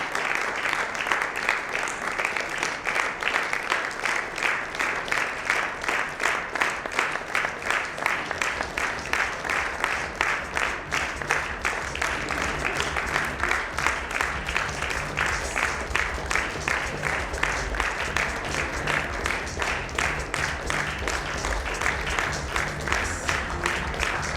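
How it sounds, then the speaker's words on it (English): An audience claps steadily and continuously as children walk onto the stage at a ten-year anniversary celebration, a dense even applause lasting throughout with faint talk beneath. "I think the claps can go on and on the moment they are entering here."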